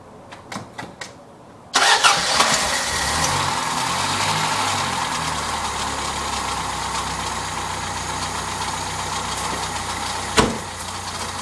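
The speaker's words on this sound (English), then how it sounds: "Let's start her up." A 1984 Toyota Corolla AE82 engine, running with its air filter off, cranks with a few short clicks, then fires and settles into a loud, steady idle close by.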